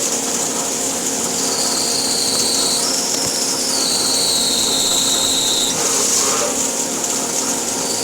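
A CNC machine drives a drill bit deep into steel while making parts for an 1845C skid steer, a loud continuous grinding whine with a rising tonal squeal and a coolant gush beneath, and no speech.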